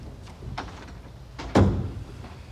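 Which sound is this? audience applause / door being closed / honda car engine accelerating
door being closed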